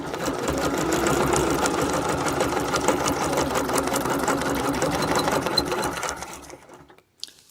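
Sewing machine running steadily while stitching a quilt for a wreath design, a close, continuous motor whir with rapid needle clatter that stops near the end, followed by a brief click.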